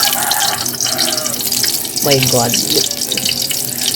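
Cold water runs from a household tap in a steady loud rushing hiss, while someone briefly exclaims over the flow.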